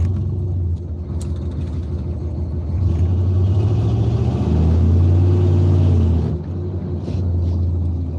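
A dump truck idles and rumbles at a traffic light, its deep engine drone steady and fairly close, swelling louder in the middle as it revs before settling back.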